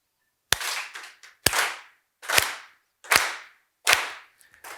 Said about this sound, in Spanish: Un ejercicio de aplauso sincronizado. Yo voy a aplaudir y aplaudís conmigo a la vez.